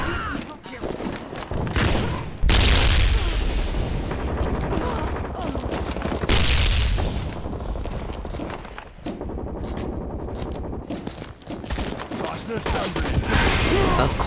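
Frag grenade blasts in the shooter game ZMR, two loud broadband bursts with heavy low rumble amid scattered gunfire and footsteps, with voices talking over the action.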